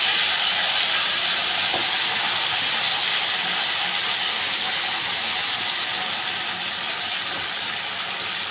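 Steady broadband hiss of steam as tamarind water is poured into a hot pan while making ground-masala sambar, a continuous loud sizzle with no talk.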